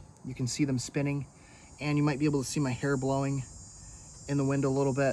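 Crickets chirping outdoors on a windy morning, a faint continuous high trill running behind someone speaking close to the microphone, with gusts of wind.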